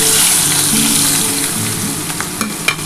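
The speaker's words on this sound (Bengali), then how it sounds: "এই তেলের মধ্যে দেখো এই যে পেঁয়াজগুলো তুলে দিলাম" Onions tipped into hot oil for a bhola fish curry burst into a loud, close, crackling sizzle that settles into a steady fry, with a few sharp pops and clicks near the end.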